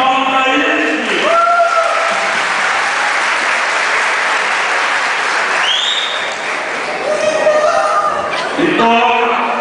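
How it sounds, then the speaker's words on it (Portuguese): A round of applause for a performer, Fábio Miguel, fills the room with dense, continuous clapping, close and loud, mixed with chuckles and light laughter, while a voice calls out over it. "Mas salva de palmas para ele"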